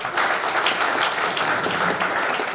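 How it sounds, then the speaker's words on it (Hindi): Loud, dense audience clapping at a company launch event, a continuous roar of many hands held at steady strength for a couple of seconds. "तो एक बार जोरदार ताली"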